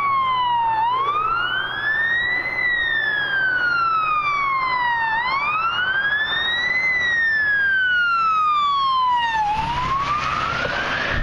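Goshen ambulance siren wailing as it passes eastbound on State Route 28 in Clermont County, Ohio, on a weekday morning; a loud, continuous rising-and-falling wail with traffic rumble beneath, steady and close throughout.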